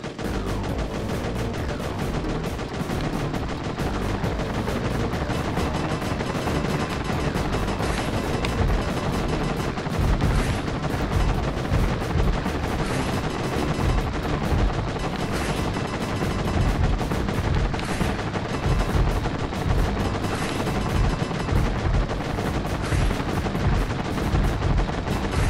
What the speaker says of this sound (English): Twin blade homing missiles.